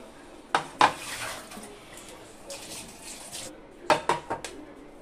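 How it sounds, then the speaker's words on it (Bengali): Raw mangoes are washed in water in a bowl, with soft sloshing and splashing broken by sharp knocks of the fruit against the bowl, in two short bursts with quieter water movement between. "আমি 6 থেকে 7 বার আমি জল পাল্টে পাল্টে আমগুলোকে ধুয়ে নিব পরিষ্কার জলে"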